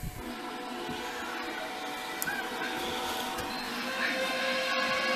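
A solar power inverter from a Harbor Freight 100W solar kit powers on inside a woodland cabin. It gives a steady, fairly faint electronic hum and whine with a few small clicks, and no one talks.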